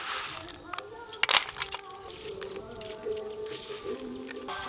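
Fish are washed by hand in a home kitchen, with wet squishing, slapping and splashing handling sounds up close, a few sharper knocks near the start, and voices in the background.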